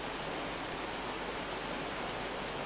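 Hail mixed with rain pelting down in the survival game Vintage Story, a dense, steady hiss of loud, even patter with no letup and no voices.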